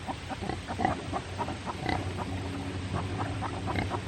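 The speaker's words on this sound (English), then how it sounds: "Why are you oinking at me?" A pig grunts and oinks repeatedly at close range, a series of short nasal snorts over faint background noise.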